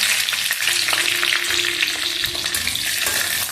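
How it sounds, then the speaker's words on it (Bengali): Five-spice tempering sizzles in a little hot oil in a pan, a steady close crackle with brief sharper spits, ongoing without any talk. "আর এর মধ্যে ফোড়নটা দিয়ে দেবে"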